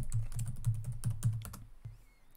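Rapid irregular clicking of keys on a computer keyboard, arrow keys pressed to nudge shapes into place in FreeCAD 3D modelling software, about ten close taps with a brief pause before a final press, no voices.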